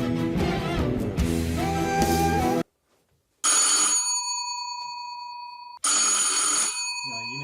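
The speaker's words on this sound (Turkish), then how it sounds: "kim bu ya hayret bir şey. Sürekli kapıyı çalıyor." An electronic door bell rings in repeated bursts, loud and close, with a short silence and a long sustained ring between the presses.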